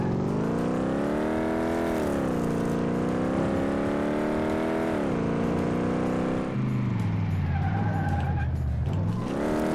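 NASCAR race car in Car Mechanic Simulator 2018, its engine revving loudly in a steady high whine that rises and falls, then a long tire squeal as the car skids and slides.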